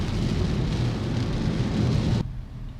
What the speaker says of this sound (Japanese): 天気雨じゃん